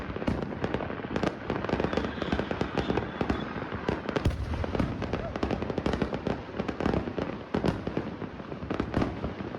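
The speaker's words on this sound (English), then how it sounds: "families gather and play their own fireworks." New Year's fireworks and firecrackers set off by families in a Hawaii neighborhood, a continuous barrage of rapid crackling pops and louder bangs, some close and some farther off.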